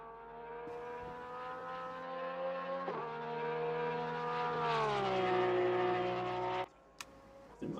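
A Porsche GT3 race car engine in a sim racing game at Monza sustains a loud, steady high-revving drone with rising pitch, dipping through a gear shift mid-way, then cutting off abruptly near the end.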